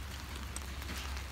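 Steady rain falls on a gloomy day, a constant hiss of drops hitting surfaces with a low rumble underneath, no voices.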